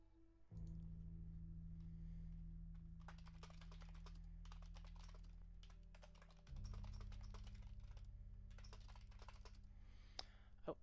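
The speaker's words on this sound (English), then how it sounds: "Oh, you all can't see what I'm typing." Steady typing on a computer keyboard in a quiet room, a run of light, quick key taps over a low constant hum, with no talking.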